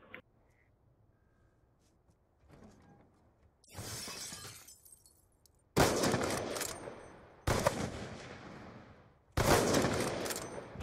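Gunfire from a weapon in the Black Ops 2 video game, with several loud sharp bursts and shots ringing out in sequence, each followed by a decaying tail, with near silence between the early quieter sounds.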